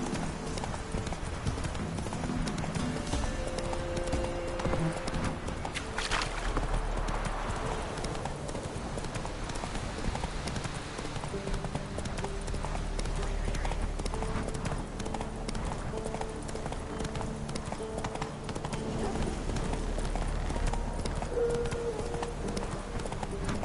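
A horse's hooves clip-clop at a steady galloping rhythm in The Witcher 3 video game, a fairly faint, continuous beat mixed under in-game ambience and background music.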